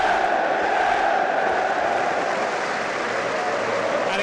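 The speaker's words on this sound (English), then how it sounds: "the crowd stands in unison to applaud" A stadium crowd at Liverpool Football Club stands and applauds at a farewell final match: a dense, steady wall of clapping and crowd roar fills the whole stretch, loud and far-spread.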